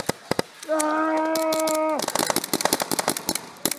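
Airsoft guns fire in rapid bursts of sharp close cracks throughout, with a sustained tonal shout briefly over the shots.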